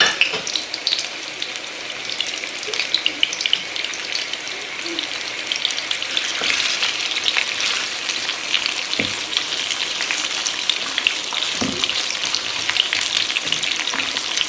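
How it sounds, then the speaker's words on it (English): Onion rounds frying in a pan for chicken kababs in masala give a loud, dense, continuous sizzle close up, with occasional soft knocks as they are moved. "we're gonna add in our onions that are sliced into rounds. Just gently put them in here."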